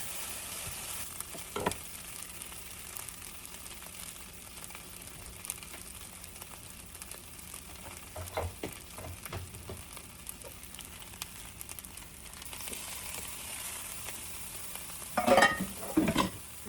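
Rice with shrimp and pineapple teriyaki sauce frying in a pan, a soft steady sizzle throughout, with occasional scraping stir clicks and a louder clatter near the end.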